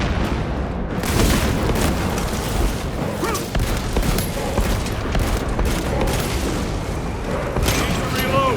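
A frag grenade going off amid the ongoing battle of Warhammer 40,000: Space Marine 2, its boom buried in dense, continuous gunfire and combat noise that stays loud throughout.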